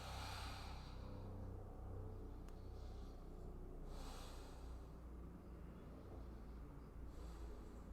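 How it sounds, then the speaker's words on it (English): Slow, deep breathing in yoga child's pose, with long airy exhales rising and falling over a low steady background rumble, close and quiet. "We'll take a few rounds of breath here."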